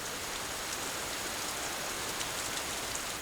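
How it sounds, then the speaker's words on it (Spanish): Steady, dense rain pours down in the Nyungwe cloud forest, a continuous hiss of drops falling on leaves and surfaces, with no voices. "Aquí llueve prácticamente a diario."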